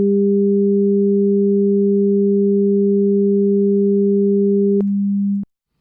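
Two steady sine test tones at 200 Hz and 400 Hz play together at equal level. The higher tone cuts off first, and the lower one continues alone for a moment before stopping abruptly, leaving silence.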